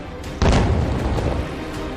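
A drone boat explodes in the Russia-Ukraine war: a sudden heavy boom bursts out and rolls on as a loud, rumbling roar that slowly fades, with no voices.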